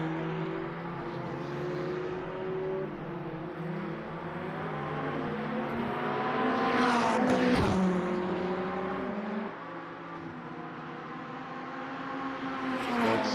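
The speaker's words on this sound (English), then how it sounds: "This braking zone, you got to be hard on the brakes right here" Race cars in a Le Mans Ultimate GTE race at Monza brake hard into the chicane, engines whining and dropping in pitch with a brief squeal-like burst in the middle, continuous and fairly loud with no talk.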